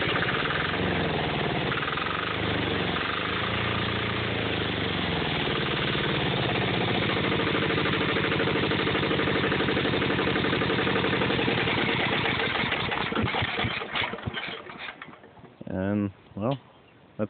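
A 10hp Yanmar diesel engine driving a fire pump runs at a steady, loud, rough idle with a rapid thumping beat for most of the stretch, then stutters and dies down into uneven chugs before stopping.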